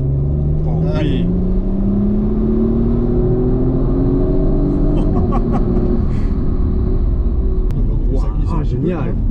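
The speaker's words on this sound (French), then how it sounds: "c'est le tour de piste en safety car avec les dernières lueurs du jour" Safety car lapping an endurance race circuit at dusk, its engine a steady close drone with slowly rising pitch throughout, while people talk excitedly over it.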